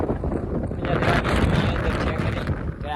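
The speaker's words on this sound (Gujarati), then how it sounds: "શિયાળાનો ખૂબ જ ઠંડો વાયરો છે યાર બહુ જ ઠંડી હવા આવેલી છે" Cold winter wind blows outdoors near a village, producing a loud, continuous rushing roar with heavy buffeting on the microphone throughout, and no clear speech.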